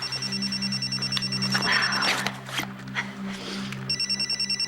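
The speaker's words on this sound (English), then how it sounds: "Oh, it's my phone." A mobile phone rings with a repeated electronic trilling ringtone in bursts at the start and end, heard indoors over a steady background hum and some rustling.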